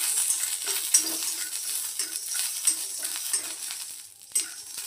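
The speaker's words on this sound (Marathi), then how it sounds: "आता यामध्ये आपण शेंगदाणे टाकून शेंगदाणेही भाजून घेऊया छानपैकी" Peanuts roasting in a pan after dried chillies for coconut chutney, a light steady sizzle with repeated rattling scrapes and small clinks as the nuts are stirred.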